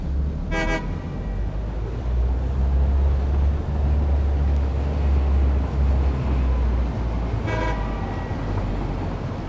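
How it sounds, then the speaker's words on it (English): Two short train horn toots sound in the video game Satisfactory, a few seconds apart, over a constant low engine rumble with no speech. "Yay, I can honk."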